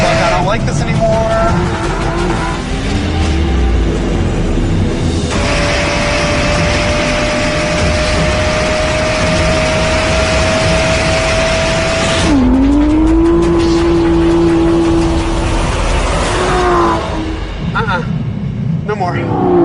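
An Aston Martin V12 Vantage S accelerates on dirt with wheel spin, the loud engine climbing and holding high revs through several gear pulls, with tire squeal and someone talking over it.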